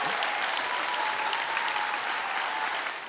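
A studio audience claps steadily through a magazine show's closing, a dense, even wash of applause that tapers slightly at the very end, with no voices over it.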